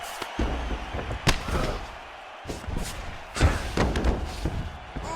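Heavy thuds of ground-and-pound punches in the fighting game EA Sports UFC 4, several irregular slams and impacts spread across a few seconds over a noisy arena background, with a commentator's voice faintly underneath.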